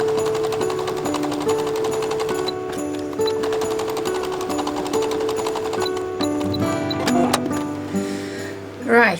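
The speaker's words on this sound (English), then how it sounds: "So we're going to take the Christmas tree design and just sew over it." Sewing machine stitching a Christmas tree design onto hessian for scrap-fabric coasters, a rapid steady mechanical rattle running close and continuous, with a brief louder clunk near the end.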